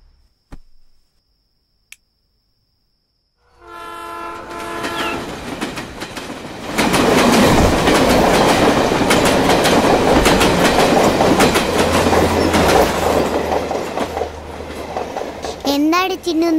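A train running on rails approaches and passes close by with loud, continuous rumbling and rhythmic clickety-clack. Its horn sounds near the end, and a low engine drone continues beneath it.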